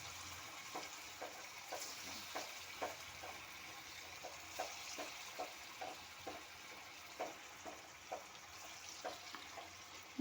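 Balls of raw green banana kofta deep-fry in a kadai of hot oil over a low gas flame, a steady faint sizzle with small regular crackles and pops throughout, no voices.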